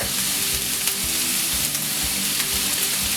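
Garlic sautéing over medium-high heat in a pan for lasagna, a loud, steady close sizzle with faint soft bumps, no talking.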